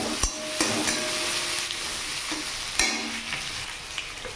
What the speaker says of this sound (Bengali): পেঁয়াজটাকে লাল লাল করে ভেজে নেব।